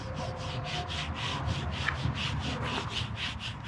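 A wild horse is groomed with a brush in quick, regular back-and-forth scratching strokes, close up and soft, repeating steadily with no talking.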